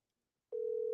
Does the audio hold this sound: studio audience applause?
no